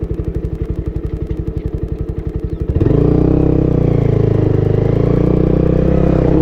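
A motorcycle engine on a rough track, idling with a fast, even thumping pulse before revving up into a loud, steady drone, close by.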